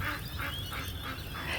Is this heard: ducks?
yes